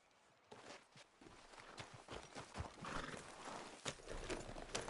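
A horse walks in Red Dead Redemption 2, its hooves clip-clopping in a steady, fairly close rhythm. Faint ambient outdoor game sounds sit underneath, and there is no talk.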